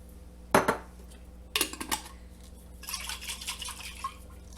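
A jar of pasta sauce topped up with water is shaken in a kitchen, giving two sharp bursts of glassy rattling and sloshing, followed by lighter clinking and liquid movement, close and loud with no talking.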